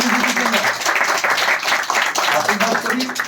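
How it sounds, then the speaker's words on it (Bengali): An audience claps at a live coaching session for selected women police constable candidates, a dense, steady burst of many hands lasting the whole moment, fairly close and loud. "তো চলো হাততালি হয়ে যাক তোমাদের"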